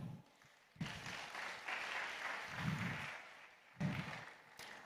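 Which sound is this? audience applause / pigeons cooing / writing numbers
audience applause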